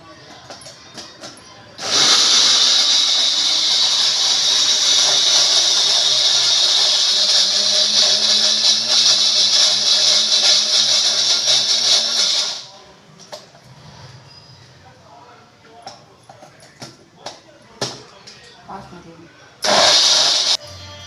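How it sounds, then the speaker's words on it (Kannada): A kitchen mixer grinder runs loud and steady for about ten seconds, grinding a sweet paste mixture with honey, then stops; scattered clinks and handling noises follow before a brief second burst of grinding. "ಜೇನುತುಪ್ಪ ಹಾಕ್ಬಿಟ್ಟು ಈಗ ಅದನ್ನು ಗ್ರೈಂಡ್ ಮಾಡ್ಕೋಬೇಕು."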